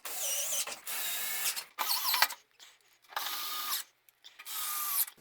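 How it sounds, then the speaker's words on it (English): Someone pushes a Hotpoint/Indesit tumble dryer side panel back into place and refits its screws: several separate bursts of scraping and rubbing metal with brief quiet pauses between them, close and moderately loud. "I just need to push this side panel back into place and put the screws back in"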